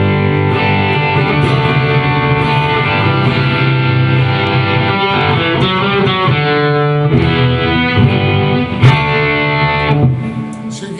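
Distorted electric guitar strums a steady chord progression, loud and continuous, with chords changing every few beats and no voices.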